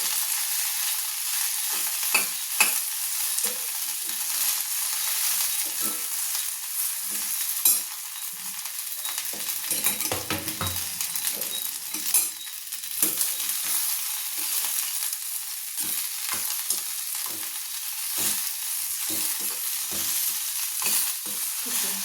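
Sliced okra fries in a pan for an okra chutney, a long steady sizzle broken by frequent scraping and tapping strokes of a spatula, busiest in the middle, close and without voices.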